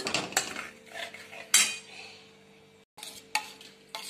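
A metal spoon mixes mango paste into a mango rabri dessert in a bowl, giving close, clinking scrapes against the dish with a few sharp knocks and a brief pause, no talking.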